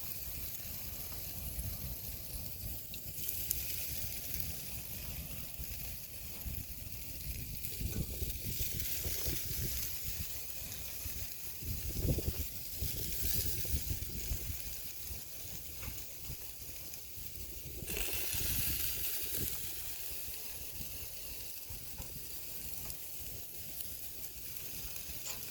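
Fish and prawn skewers cooking over hot coals outdoors at Quobba Point, a steady soft sizzle and hiss running continuously with faint crackles and swells, close but quiet, no voices.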